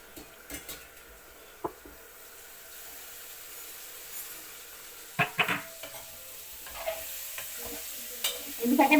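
Bitter gourd fry cooking in a little oil in a pan is stirred now and then, producing quiet sizzling with scattered scraping and stirring clatters that grow busier toward the end; no one speaks.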